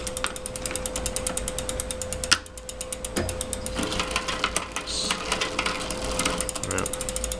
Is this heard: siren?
no